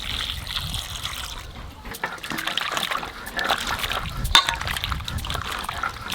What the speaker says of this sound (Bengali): এইবারে এই লাউয়ের খোসাগুলোকে ধুয়ে তারপর কুচাবো।